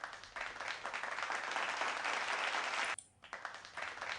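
Sustained applause from an audience fills the background, a dense broadband patter that holds steady, drops out briefly near the end, then resumes.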